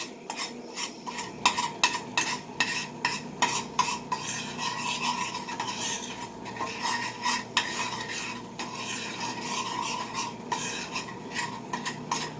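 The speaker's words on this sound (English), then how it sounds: "So all you're doing with the flour and the oil is just browning it." A spoon scrapes and stirs a flour and oil roux browning in a pan over low heat, giving rhythmic rasping strokes with occasional clinks against the metal.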